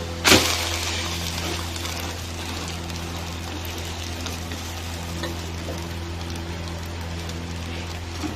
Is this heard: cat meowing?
no